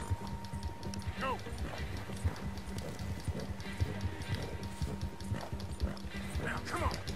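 Steady rhythmic hoofbeats of a galloping horse in the video game Red Dead Redemption 2, clip-clopping continuously with a few snorts and breaths, under a faint electronic background.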